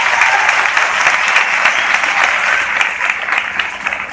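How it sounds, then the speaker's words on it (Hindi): Loud, dense applause from an audience at an open-air meeting fills the full stretch without a break, steady and close, with no voice standing out above it. "एक बार जोरदार ताली होनी चाहिए आपकी।"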